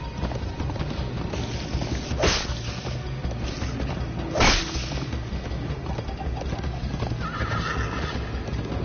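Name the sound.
horse galloping, hooves clip-clopping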